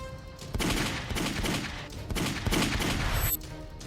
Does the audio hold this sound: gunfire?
yes